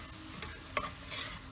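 A spoon stirs tomato soup ingredients in a pot on a switched-off burner, making soft scraping and clinking strokes with one sharper knock near the middle, close by and quiet, with no voices.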